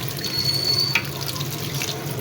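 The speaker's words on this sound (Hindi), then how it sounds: "और इस पे पानी से इनको नतार लेंगे ताकि जो एक्स्ट्रा कलर है ना वो निकल जाए।" Running tap water splashes over coloured rice being rinsed in a kitchen, a steady close wash of water with a brief clink partway through, no talking.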